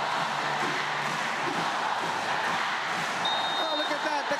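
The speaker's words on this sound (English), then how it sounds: "the crowd cheering go, go Japan" A large arena crowd at a Japan versus CCS volleyball final roars and chants steadily in support of Japan, a dense, continuous wall of cheering with a loud announcer voice on top.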